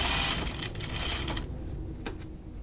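An industrial sewing machine stitches a hem on a button-up shirt, its motor whirring steadily close by with speed rising and falling slightly, plus a couple of brief clicks.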